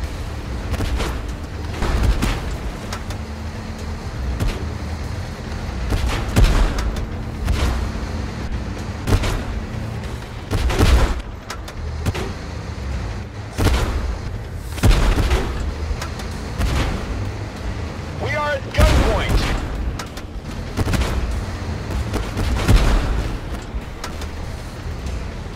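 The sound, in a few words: artillery bombardment in a tank video game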